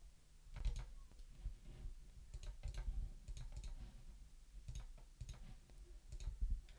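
Name servers are typed on a computer keyboard while DNS records are updated, giving light, uneven clusters of quiet key clicks that sound close and fairly soft, with no talking.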